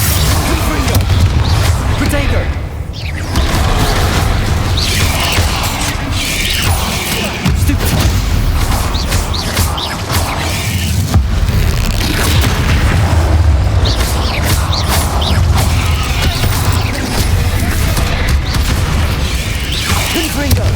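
Blasting-spell explosions in Hogwarts Legacy: a dense, loud barrage of booms and crackling bursts rolls on almost without pause, with voices calling out spells amid the roar.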